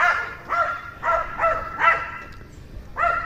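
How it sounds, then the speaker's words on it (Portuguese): A small dog barks sharply and repeatedly along a country road on a morning walk, five quick yaps in a steady rhythm, a pause, then one more, fairly close over faint outdoor background. "olha o cachorrinho, como é que ele late. Latido forte, hein?"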